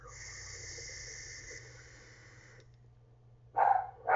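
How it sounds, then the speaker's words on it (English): A steady electronic hiss from a vape tank runs, then cuts out, and a dog gives two short, fairly loud barks at the end. "And it makes the dog bark."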